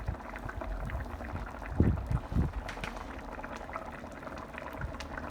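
A pot of Thai green chicken curry coming to a boil, with low bubbling and gurgling liquid that swells into a few louder burbling bursts near the middle, heard close and alone.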